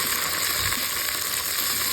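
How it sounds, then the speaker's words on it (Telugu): Coriander, mint and curry leaves fry in hot oil with a dense, continuous sizzle, loud and close, with no voices. "వేసుకున్న తర్వాత బాగా ఫ్రై చేసుకోవాలండి."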